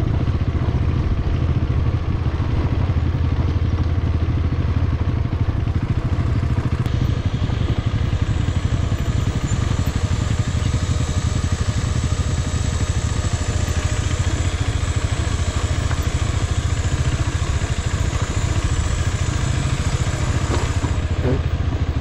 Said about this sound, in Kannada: ನೋಡಿ, ಇಂಜಿನ್ ಬ್ರೇಕಿಂಗು ಜಸ್ಟ್ ಹಾಕ್ಬಿಟ್ಟು ಬಿಟ್ಬಿಟ್ಟು ಲೈಟಾಗಿ